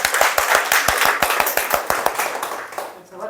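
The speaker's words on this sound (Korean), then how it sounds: "박수!" A group of parents at a daycare parents' session claps together in quick, even unison beats, near and crisp, then the claps stop and fade out at the end.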